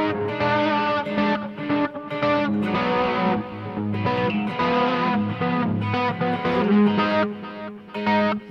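Electric guitar played through a Boss eBand JS-10 with distortion, delay and reverb, an 80s heavy metal tone; a continuous run of saturated chords and notes with a roomy, hall-like trail, loud and alone.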